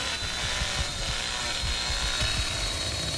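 A chainsaw runs continuously in the Texas Chainsaw Massacre video game, a loud, steady buzzing drone with rhythmic low thumps underneath, with no talking.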